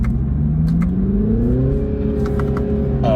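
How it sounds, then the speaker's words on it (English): A BMW Z4 (G29) engine accelerates hard, its tone rising steadily in pitch through the revs, heard loud and close from inside the car with no talking. "I'm actually really pleasantly surprised by this engine, and it doesn't feel like it really runs out of steam up top."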